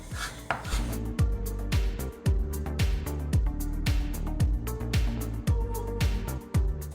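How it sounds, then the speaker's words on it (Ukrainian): Quick, steady knife chops on a cutting board as eggplant is finely chopped, a rapid rhythmic tapping repeated many times at close range. "І знову ж так само нарізаю міленько."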